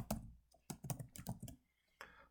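Close, quiet keystrokes on a computer keyboard while entering a macro name in a spreadsheet, a few short bursts of clicky typing separated by brief pauses.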